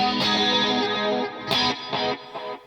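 Distorted electric guitar chords ring out, with delayed repeats of each hit echoing behind them before fading away.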